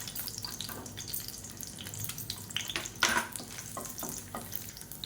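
Four garlic cloves and five dried red chillies frying in hot oil for an onion chutney give a steady crackling sizzle, with a louder spitting burst midway.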